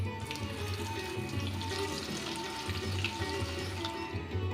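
Masoor dal and kachki fish fritters fry in hot oil with a steady, close, crackling sizzle and a low bubbling underneath that holds evenly throughout, with no talking.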